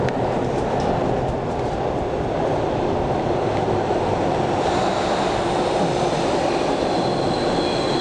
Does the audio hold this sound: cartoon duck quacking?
no